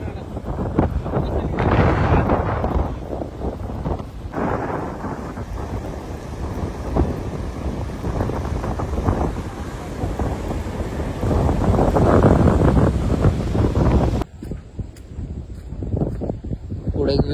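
Strong wind at a valley viewpoint in Gudhe Pachgani, Maharashtra, roars and buffets the microphone in loud, continuous gusts that swell and ease, then drop off sharply near the end.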